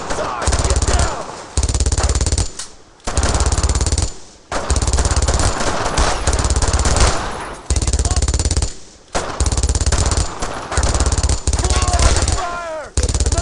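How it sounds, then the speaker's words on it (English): Machine-gun fire in the World War II shooter Brothers in Arms: Road to Hill 30 comes in long, loud bursts with short gaps between them, and shouted voices are heard between and under the bursts. "Covering fire! Lay it on!"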